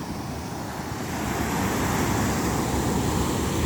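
Floodwater overflowing and rushing through Barangay Nagba after Typhoon Tino, a loud, steady broadband roar that swells slightly and continues without pause, with no voices.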